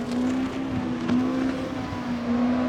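Ford GT40 Mark II race car engine in a 1960s sports-car racing game at Riverside, a steady loud droning note holding pitch throughout with slight surges, continuous and close with no talk.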